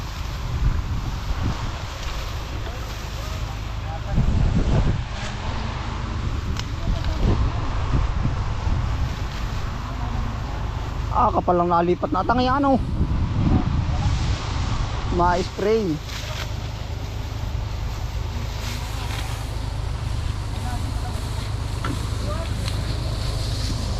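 Strong wind rumbles across the microphone over an open rice field, steady and blustery throughout, with people talking over it.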